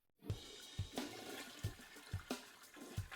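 Cruise ship cabin toilet flushing, a steady rushing water roar with a repeating pulsing gurgle every half second, close and loud throughout.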